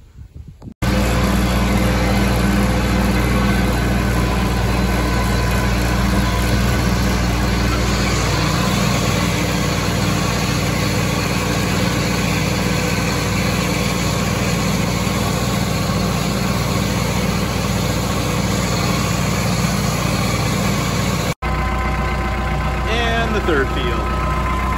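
A tractor engine runs steadily and loudly while mowing first-cut hay, a constant rumbling drone for about twenty seconds, with a brief cut and rattling afterward; a voice talks over it.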